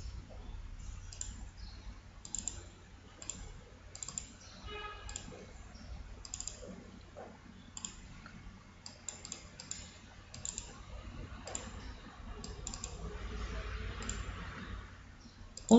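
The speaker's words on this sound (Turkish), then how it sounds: "yeni foto ekleme butonuna tıklıyoruz" A computer mouse clicks on an add-new-photo button, a series of sharp, quiet clicks spaced irregularly over faint background hiss, with some typing-like tapping mixed in.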